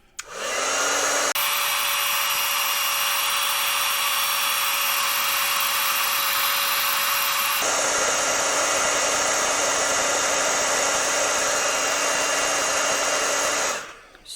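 A heat tool warms embossing on a St. Patrick's Day card, a loud, steady blowing whir like a hair dryer that shifts pitch twice and runs alone, without talk.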